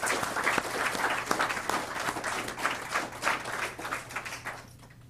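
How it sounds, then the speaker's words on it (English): An audience at a TCAT Hohenwald signing day gives a round of applause, with moderate, steady clapping that gradually fades out. "help me in giving them a round of applause"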